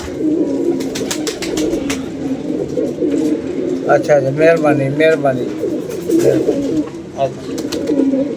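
Pigeons coo in soft, repeated bursts close by, mixed with voices talking over a steady background murmur.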